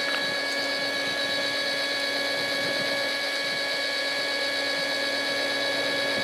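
A Frankford Arsenal Platinum Series case trimmer cuts 300 Blackout brass cases, its small motor whirring at a steady, close pitch with faint scraping from the cutter throughout.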